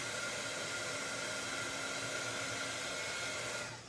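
A heat tool blows a steady, loud whirring hiss while melting embossing powder on chipboard, running continuously alone before cutting off at the end.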